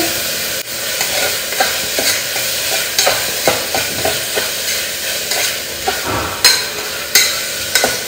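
Food with coriander leaves and green chili sizzles steadily in a hot pan while a spoon scrapes and stirs in quick, regular strokes, close and clear.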